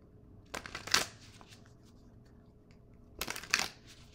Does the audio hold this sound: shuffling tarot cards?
yes